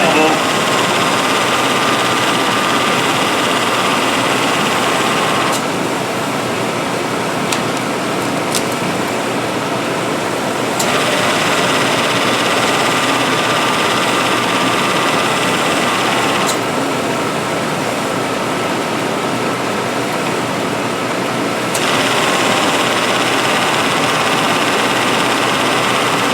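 A 1998 GMC truck engine runs steadily while its AC compressor short cycles, so the constant mechanical hum is broken by a faint drop and return about every five seconds, repeating four times.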